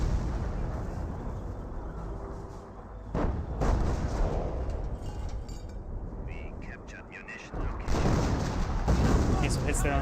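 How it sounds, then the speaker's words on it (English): A mortar shell striking an infantry squad in the strategy game Company of Heroes, with booming impacts and explosions over a continuous din of battle, a voice talking underneath. "Rapid squad straight forward, does take a hit there from the mortar."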